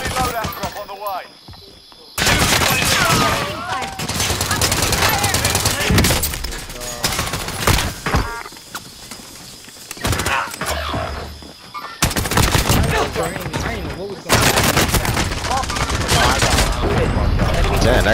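Loud bursts of rapid automatic gunfire break out in a video game, several clustered volleys separated by short quieter gaps, close and harsh, with game sounds and voices faintly under it.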